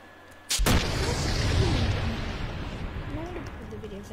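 A game explosion in Roblox Innovation Labs, one sudden loud boom followed by a long rumbling roar that slowly fades, with a few faint whistling tones over it.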